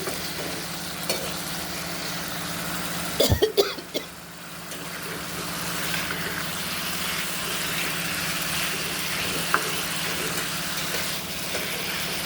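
Spice paste of cumin, coriander, chilli and turmeric powders with a little water, sautéed in oil with five-spice tempering for a village-style shukto, sizzles steadily; a brief cluster of loud scraping stirs cuts through a few seconds in.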